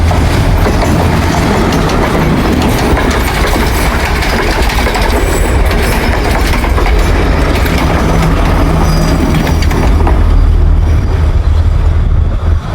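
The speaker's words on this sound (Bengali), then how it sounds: "সমুদ্রের পাশেই ট্রেনের লাইন" A train rolls past close by on a seaside line in Colombo, Sri Lanka, loud and continuous, with rumbling wheels and rhythmic rail clatter throughout.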